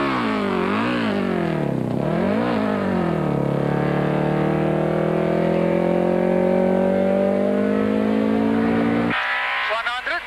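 A rally car at Sasol Rally 2003 drives out of a stage into retirement, its engine droning and rising and falling close by, then a sudden cut near the end.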